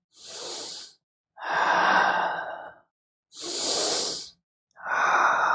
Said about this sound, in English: Breathe into the chest.